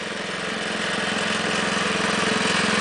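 A Wheel Horse garden tractor engine idles a little high, a loud, close, steady putter with an even low rhythmic pulse and no pauses.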